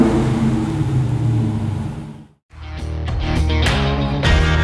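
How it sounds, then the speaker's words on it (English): Exhaust of a 2023 Dodge Super Bee muscle car, a steady deep rumble that cuts out briefly, then returns as a rising rev with sharper bursts, loud and close. "there's no mistaking the sweet sound of the exhaust as anything other than pure muscle"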